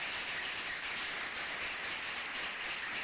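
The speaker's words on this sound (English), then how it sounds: "Can we give them a huge round of applause?" Audience applause for participants at a public speaking competition, a dense, even wash of many hands clapping that continues steadily throughout at moderate distance.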